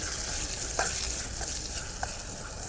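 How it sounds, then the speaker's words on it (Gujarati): Spiced corn chevda with salt and crushed chili is tossed in a pan, giving a close, steady frying hiss with a few distinct scraping strokes of the spoon, no voices. "હવે પાછું થોડુંક હલાવી નાખીએ"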